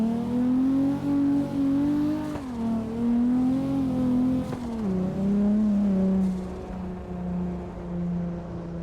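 Steady engine drone from a car driving in the CarX Drift video game, pitch rising and dipping with throttle changes, loud and continuous with no talk.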